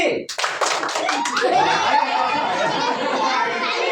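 A group clapping hands during a yoga session, a brief burst of scattered claps giving way to murmuring chatter and light laughter.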